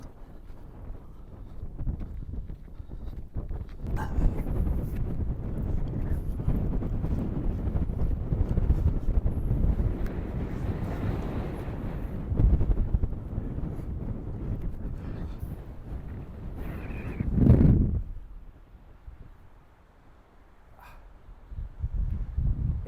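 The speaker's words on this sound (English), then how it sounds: "It's very, very, very windy." Strong wind buffets the microphone on an exposed stretch of coast along the North Coast 500, a steady roar with louder gusts swelling and dropping throughout.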